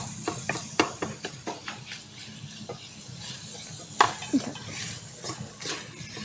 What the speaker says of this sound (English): we are going to combine our coleslaw mix and our cooked pork